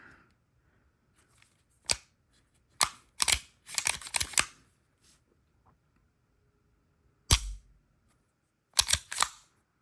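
Trigger of a Sig P226 X-Five Legion pistol dry-firing: sharp, close mechanical clicks, spaced at irregular intervals, some as single snaps and some in quick clusters, with quiet between them and no talk.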